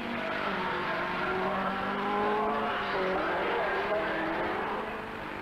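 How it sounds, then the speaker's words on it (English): A Lancia Stratos rally car drives past at the 1981 Cork 20 Rally, its engine holding a loud, steady rasping note for several seconds with a slight swell in the middle. "Wolverhampton's Russell Brookes leads the parade with the Chequered Flag Stratos, a car every 30 seconds"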